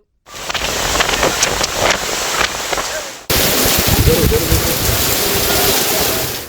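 Dense, roaring downpour in Hyderabad fills the whole stretch as a constant loud hiss, briefly cutting and resuming at a slightly different level.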